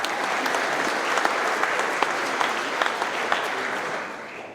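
Applause from an audience at a Melton Truck Lines company anniversary celebration, a dense steady clapping throughout with a few sharper individual claps, tapering off slightly at the end.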